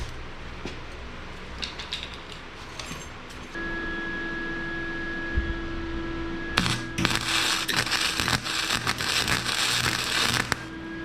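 Welding the steering onto a modified Power Wheels Gator: a steady, fairly loud broadband crackle that starts partway through and keeps sputtering unevenly to the end over a low background hum.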